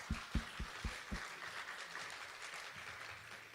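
A church high-school youth congregation gives a short burst of applause, a few soft claps close together that quickly thin out, faint and roomy in a quiet hall.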